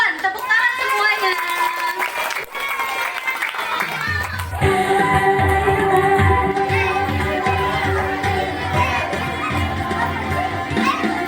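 An audience at a school language performance claps for several seconds, broadband and crowd-like, before music with a steady beat takes over and continues loudly.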